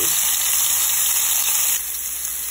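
Coffee-cured filet mignon steaks frying in a hot pan, giving a loud, steady, close-up sizzle that drops slightly in level partway through, with no talking.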